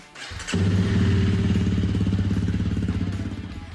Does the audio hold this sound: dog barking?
no